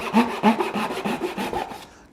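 Japanese pull saw cutting through wood in a vise, about seven even rasping strokes in steady rhythm, close and fairly loud, stopping just before the end.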